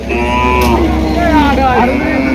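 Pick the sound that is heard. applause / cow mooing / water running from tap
cow mooing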